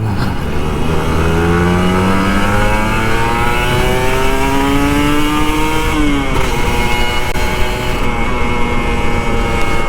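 A Kawasaki Ninja RR 150 two-stroke motorcycle accelerates hard on a commute, its high buzzing engine climbing in pitch through the revs, briefly dropping at a gear change and climbing again, loud and close with constant wind rush, no talking.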